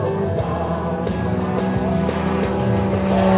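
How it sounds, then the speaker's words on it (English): An Extra 300 aerobatic plane's piston engine roars during an air show, a steady loud drone with shifting pitch as the aircraft maneuvers, slightly rising toward the end. "showing you the tremendous power of the extra 300"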